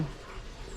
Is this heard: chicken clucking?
no